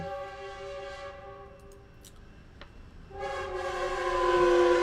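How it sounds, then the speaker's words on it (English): A passing train blows its horn near a road intersection, with long sustained blasts that drop away and then return louder and closer as the train approaches. There is no talk. "I'll let the train pass."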